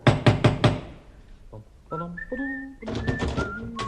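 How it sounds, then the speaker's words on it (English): Four quick, sharp knocks on a door as a sound effect in an old-time radio comedy, loud and close, followed by whistled tones and other effects. "Bang on the door."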